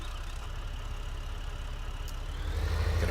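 Tractor or farm vehicle engine in Farming Simulator 15 idling with a low, even rumble that holds steady, then deepens and grows slightly louder near the end.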